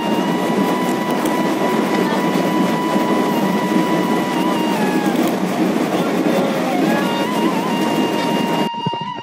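At dusk in a village, a train arrives with a steady, loud rumble and faint metallic squeals of wheels on rails, lasting several seconds before stopping abruptly.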